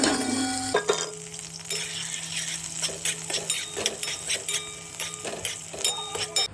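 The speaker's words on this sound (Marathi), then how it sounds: "लसूण थोडा लाल झाल्यानंतर मी टाकते बारीक चिरलेला कांदा" Chopped onion added to frying cumin, mustard seeds and garlic, a sudden sizzle followed by a steady crackle with light stirring scrapes and clicks nearby, no talking.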